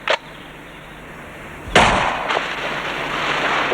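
Gunfire in the Doctor Who serial Spearhead from Space: a brief sharp crack, then a much louder blast with a lingering rumbling tail, close and dramatic, with no speech.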